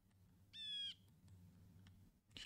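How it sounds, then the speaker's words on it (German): A single short bird whistle from the video game Minecraft sounds once, clear and fairly near, over a faint low background hum. "Ja, die Vögel höre ich, ja."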